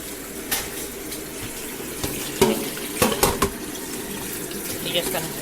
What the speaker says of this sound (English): we're going to hit them with some cold water to get them to stop cooking.